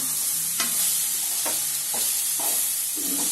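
Brinjal thokku (ennai kathirikkai) being stirred in an oily pan, a continuous bright sizzle punctuated by about five distinct scraping strokes of the spoon, close and steady.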